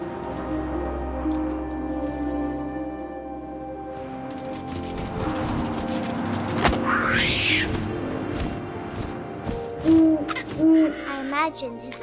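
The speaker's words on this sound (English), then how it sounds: "And suddenly, I was an owl." Owl hooting in the video game What Remains of Edith Finch: two clear hoots near the end, after wind-like ambience, a low rumble, a thud and a burst of rustling noise.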